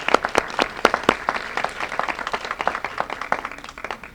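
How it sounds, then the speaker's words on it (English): Audience applause for a school community gathering marking state funding for a district playground, steady dense clapping from a crowd throughout, fairly close and sustained with no voices on top. "Give yourselves a big round of applause"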